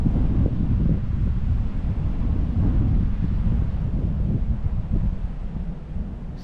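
Strong wind rips past a microphone out fishing, a loud continuous low rumbling buffet that gusts steadily throughout with no voices.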